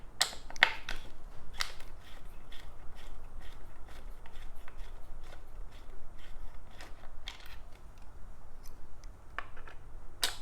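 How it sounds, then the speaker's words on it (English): Bolts on a Yeti SB6c mountain bike's suspension link are loosened with a 5mm Allen wrench, giving a series of sharp metallic clicks and ratcheting scrapes at close range over quiet background noise. "we can remove the collet bolts with a 5mm Allen wrench"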